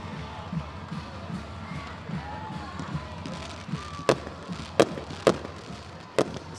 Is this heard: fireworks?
yes